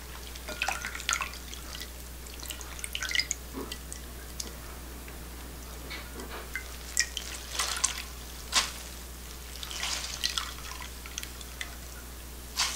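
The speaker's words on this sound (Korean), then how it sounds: "이걸 한번 헹궈서 한번 꼭 짜겠습니다" Rinsed green laver squeezed by hand in a home kitchen, releasing quiet scattered drips and trickles of water that fall in irregular taps, faint and close, with no talking.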